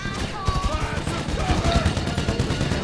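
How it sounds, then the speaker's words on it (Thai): Rapid bursts of AK rifle fire from the video game GTA V crackle steadily across the whole stretch, loud and close, with faint tonal game sounds underneath. "เราเปลี่ยนปืนดีกว่า โอ้ยมีไอเค เราใช้ไอเคนะครับ"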